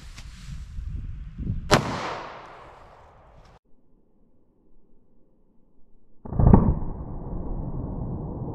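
A 9mm Winchester Silvertip round fired into bare ballistic gel with no MDF barrier, heard as a sharp loud report with a long decaying tail, then a second blast and lingering rumble after a quiet gap.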